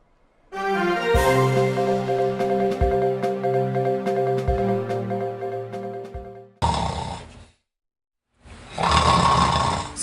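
Heavy, loud snoring from a sleeper with apnea repeats in long rumbling breaths, then breaks into a couple of harsher snorts separated by silent pauses, with no talk.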